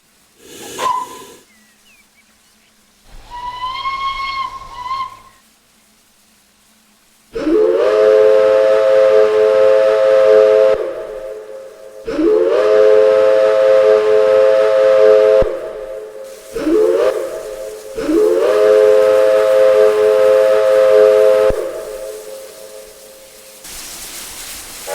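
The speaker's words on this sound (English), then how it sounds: "there's also an American-style whistle controlled by pressing the B key" Long American-style steam whistle on an LNER A3 locomotive in Train Simulator, sounding loud and close in three sustained chime blasts with short gaps, after a few brief, fainter hoots and hisses.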